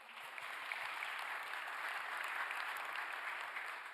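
Steady applause from a large audience at a national policy briefing event, dense and continuous clapping filling the whole stretch without speech.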